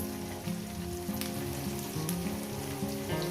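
Chopped onions sizzle and crackle steadily in a hot pan of oil, a close, continuous frying hiss with faint tonal sounds underneath.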